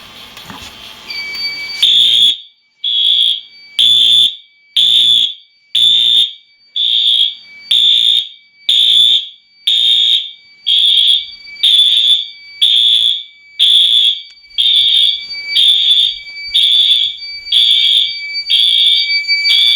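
A loud Wheelock smoke detector fire alarm blares in regular pulses during a system test, about a dozen shrill electronic tones, each lasting about a second with short gaps, close and unrelenting.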